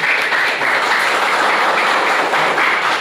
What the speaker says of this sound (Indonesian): aplaus buat Sukabumi